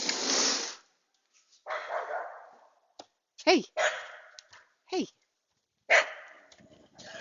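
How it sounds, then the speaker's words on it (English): A puppy barks and yips in short bursts at a wild animal, fairly close, with a person calling out briefly between the barks. "my puppy who's barking at some wild creature."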